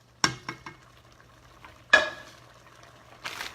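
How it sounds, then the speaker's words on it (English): A spoon stirs food cooking in a pot for pozole, giving a few scraping, clattering strokes at close range with quiet simmering between them. "Stir that up."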